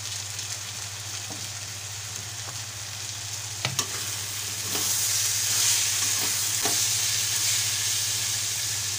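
Snake gourd, onion and jackfruit seeds fry in a pan as a pinch of sugar is stirred in, making a loud, steady close sizzle with a few utensil knocks that swells brighter partway through, with no talking.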